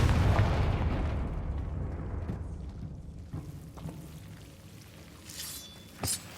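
A Confringo spell explosion in a Harry Potter video game lands as a loud, rumbling blast that slowly decays over several seconds, followed by a few small pops and a short sharp crack near the end.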